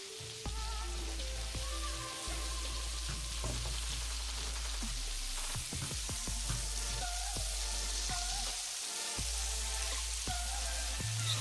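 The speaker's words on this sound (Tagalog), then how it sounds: "Now let's follow our onion. Just keep stirring on the pan." Chopped onion frying in a hot pan for a creamy tagliatelle, a steady close sizzle over low hum with the sharp scrapes and taps of a utensil stirring the pan.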